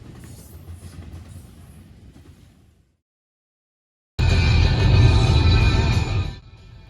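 A Norfolk Southern freight train passes on the Chicago line: a low rumble fades out into a brief silence, then a loud, close roar of wheels and cars resumes and drops off near the end.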